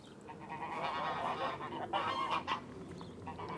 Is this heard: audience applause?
no